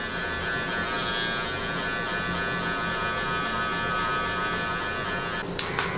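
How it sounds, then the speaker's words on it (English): Electric hair clippers buzz steadily and close up during a high taper haircut, giving a continuous loud hum with no talking. "I'm gonna switch clippers, and we're gonna use the rake down technique."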